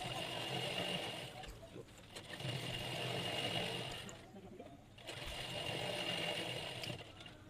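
A sewing machine stitching elastic into the waistband of palazzo pants runs in two long, steady buzzing bursts with a short pause between them, close and loud.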